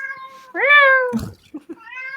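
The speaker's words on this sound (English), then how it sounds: "It's like Minecraft cats. They're like meowing all the time." A cat gives one clear, rising-then-falling meow close by. A short burst of noise and a few faint chirps follow.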